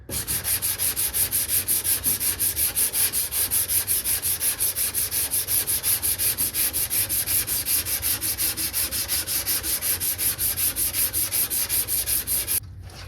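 Rhythmic back-and-forth sanding on the metal body of a 1979 Plymouth Volare wagon, strokes coming evenly and quickly for about twelve seconds, loud and close, with no talking.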